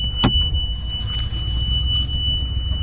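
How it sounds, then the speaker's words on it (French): A Yanmar 3YM30 marine diesel engine turns over with a brief sharp starter burst, then settles into a steady low, loud rumbling idle that continues throughout, with a thin constant high whine above it. "Démarrage moteur."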